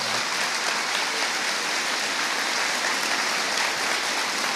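Applause from the congregation at a church gathering, a steady dense wash of many hands clapping at once, even in volume and heard alone for a few seconds.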